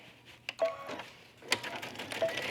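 Sewing machine backstitching a cuff seam while attaching trim: short bursts of close mechanical stitching chatter with brief pauses between runs, moderately quiet.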